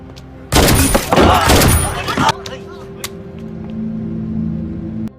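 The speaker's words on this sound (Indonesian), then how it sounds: "Udin pun langsung menembaki mereka" Gunfire erupts in a film scene: a loud, dense burst of shots lasts under two seconds, followed by a few scattered sharp cracks and a low lingering hum.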